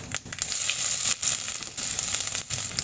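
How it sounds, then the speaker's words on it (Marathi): Spice masala of asafoetida, turmeric, Kashmiri chilli powder, coriander powder and ginger-garlic paste frying in hot oil for dal tadka, a loud, close, continuous sizzle with a few scraping stirs. "आता आपल्याला एक छान असा मसाला फ्राय करून घ्यायचा आहे"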